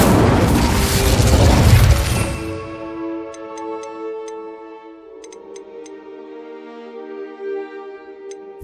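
Hogwarts Legacy's Incendio fire spell bursts in a loud, broad whoosh that fades after about two seconds, then gives way to soft tonal chimes and a few light ticks.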